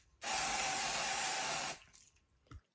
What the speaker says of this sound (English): So I'm gonna spray the wig on the inside.